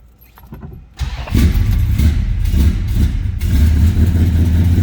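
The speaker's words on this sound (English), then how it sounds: "All right, let's go ahead and fire this up." Cold start of the engine in a 1963 Plymouth Belvedere two-door post: a brief starter crank, then the engine catches and settles into a loud, rough, rumbling idle close by.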